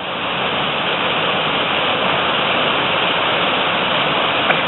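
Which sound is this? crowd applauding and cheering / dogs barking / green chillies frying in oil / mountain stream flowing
mountain stream flowing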